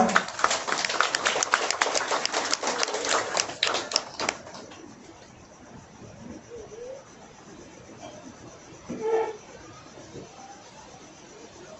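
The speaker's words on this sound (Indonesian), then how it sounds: "Sekali lagi beri tepukan bagi mereka." Guests at Ruben and Magdelina's wedding clap for the couple, a dense burst of close applause for about four seconds that then stops, leaving quiet room noise and a brief murmur.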